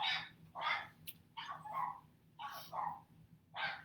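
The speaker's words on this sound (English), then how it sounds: "My neighbor's dogs are going to go off the chart." Neighboring dogs bark repeatedly at a distance, about six faint, irregular barks over a low background hum, with no voices.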